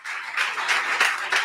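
A church congregation claps together in a dense, continuous burst of applause that swells in waves and holds for a moment before fading.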